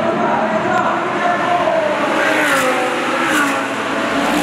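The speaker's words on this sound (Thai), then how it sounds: "ปิติกำลังจะพารถแข่งเฟอร์รี่488 GT3 ของสิงห์มอเตอร์สปอร์ต" A Ferrari 488 GT3 race car from Singha Motorsport drives on a circuit during a 2020 Thailand Super Series race, its engine roaring loudly and steadily in a broad, sustained rumble.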